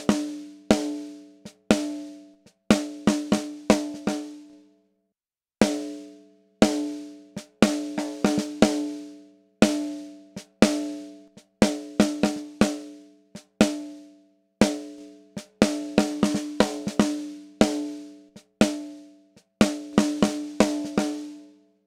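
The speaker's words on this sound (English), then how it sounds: "So that's the sound of the JDK R22 compressor." Music run through a JDK R22 audio compressor, heard as short rhythmic bursts of tonal notes with sharp attacks and quick decays, separated by brief gaps of near silence, with no voices.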